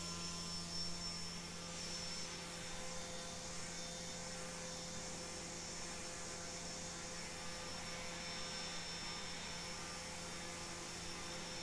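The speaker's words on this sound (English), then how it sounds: "this propeller is an 8-inch diameter tip-to-tip propeller" An 8-inch diameter propeller spins steadily on a motor in a momentum theory experiment, giving a constant, fairly faint whirring hum with a high tonal whine, unbroken and without talk.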